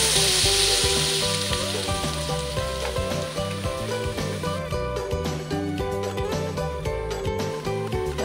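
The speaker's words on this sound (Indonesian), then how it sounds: "Kita panaskan dulu minyaknya." Omelette of chicken and duck eggs frying in hot oil, a steady close crackling sizzle with rhythmic popping and a faint tonal hum underneath, continuous for the whole stretch.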